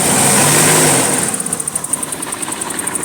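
A 1988 BMW 528e engine idles close by, its steady rumble broken by an uneven, stumbling beat from a misfire. A high whine runs throughout, and the sound stays alone with no talk.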